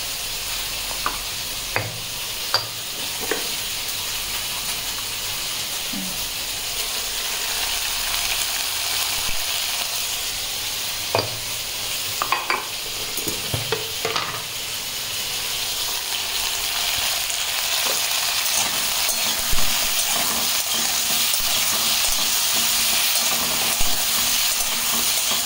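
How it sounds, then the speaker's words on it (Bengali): Cauliflower fries with salt and turmeric in a wok, a steady close sizzle with scattered clicks and scrapes of stirring throughout, and no voices. "এটা লাল করে ভাজা হবে যাতে সেদ্ধ হয়ে যায়।"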